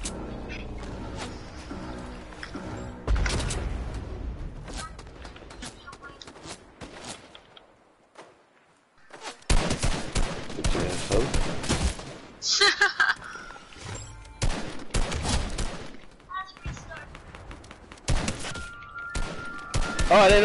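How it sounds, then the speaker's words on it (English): Video game gunfire erupts in dense bursts of sharp shots and volleys, loud and close, broken by a brief near-silent pause, with a player's voice talking over parts of it. "Whoever that was, I just shot that guy."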